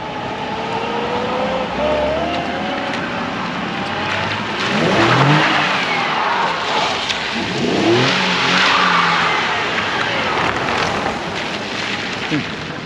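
A car engine revs and pulls through the gears on the move, with rising and falling sweeps of engine note under heavy wind noise from the open cabin, moderately loud throughout.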